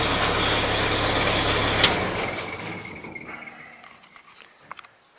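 A 1947 Willys Jeep engine idling, a steady close rumble that then dies away as the engine shuts off, leaving quieter ticks and small knocks.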